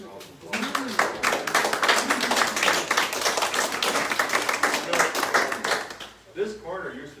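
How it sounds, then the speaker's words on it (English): A small outdoor group at a family home dedication claps for Nathan and the board, distinct individual claps in a lively burst that fades near the end as a voice begins talking. "can we give Nathan and all the board a great big round of applause?"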